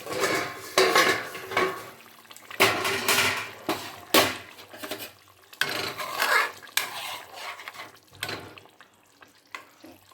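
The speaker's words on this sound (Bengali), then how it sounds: "এবারে ঢাকাটা খুলে দেখব।" Metal pot lid lifted off a simmering pot of papaya and rohu-style fish curry with mint in a home kitchen, amid a run of clattering cookware, scraping utensils and brief bangs, close and fairly loud with quieter gaps between.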